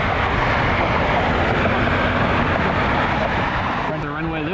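A Frontier Airbus A321neo rolls on the runway at Cleveland Hopkins airport, a loud, broad, steady engine roar that holds throughout, with a voice talking over it near the end.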